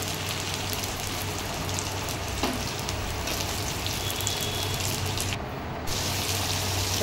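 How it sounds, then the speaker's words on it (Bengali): Chopped onions dropped into hot oil with browned garlic in a pan, giving a loud, steady sizzle close by that barely lets up and stays clear of talk. "নেড়ে ছেড়ে একটু লাল করে নিয়ে এবার আমি পেঁয়াজ কুচিগুলো দিলাম।"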